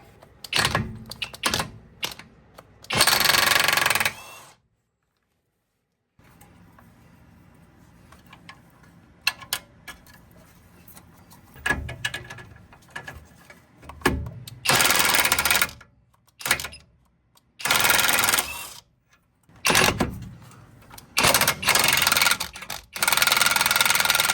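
A 32 mm socket on a breaker bar or impact tool works loose the front axle hub nut on a 2014 Honda Civic in a shop, giving loud bursts of rapid rattling hammering between quieter stretches of clanks and handling noise.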